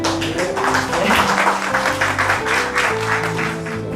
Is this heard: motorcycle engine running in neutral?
no